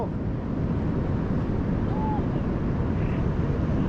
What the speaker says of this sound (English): I can feel the wind behind me.